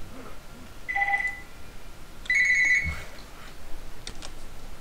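A telephone rings in a multiplayer Civilization strategy game, two short electronic trilling bursts with a gap between them, clear over quiet background.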